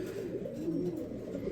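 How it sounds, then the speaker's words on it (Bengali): Short face pigeons coo softly in a low, rolling murmur that runs continuously, fairly close and quiet, with no voices over it. "শর্ট ফেস কবুতর দেখেন"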